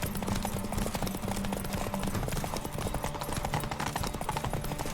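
Geralt's horse Roach gallops at full speed in The Witcher 3, with rapid, even hoofbeats pounding steadily and close throughout.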